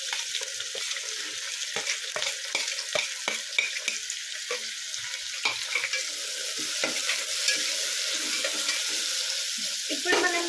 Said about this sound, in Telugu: మనమైతే ఆనియన్స్ వేసుకుందాం.